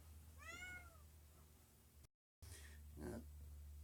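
A cat meows from behind a closed door, one clear drawn-out cry early, then a second muffled call after a brief gap, faint against steady low room hum.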